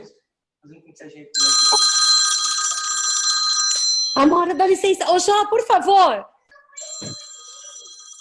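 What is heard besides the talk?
telephone ringing during a lecture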